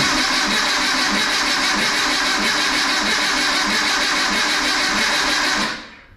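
A free dune buggy's engine starts and runs loud and steady at close range for about six seconds, then cuts off abruptly, with no voices.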